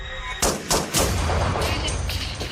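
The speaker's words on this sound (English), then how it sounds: "Hearing the gunfire," AR-15 rifle gunfire in a tense confrontation: three loud, sharp shots in quick succession, followed by a lingering echoing rumble.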